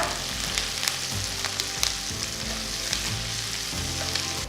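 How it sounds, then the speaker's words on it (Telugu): Roughly cut green chillies and curry leaves sauté in a hot pan with a continuous, close sizzle and occasional stirring clatter, and there is no talking. "కొన్ని కరివేపాకులు చిన్ని వేసి ఫస్ట్ మనం సాటే చేసుకోవాలన్నమాట"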